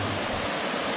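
Steady broadband rush of falling water at Salto Santa Clara waterfall in Yauco, Puerto Rico, a constant hiss without pauses, fairly distant and even.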